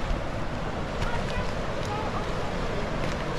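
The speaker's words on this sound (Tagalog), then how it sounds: "So yung ating river, napakalo ng current yan." Strong river current below Athabasca Falls in a canyon: a continuous low rushing roar of fast water mixed with wind buffeting the microphone, steady and fairly loud, with no clear voices.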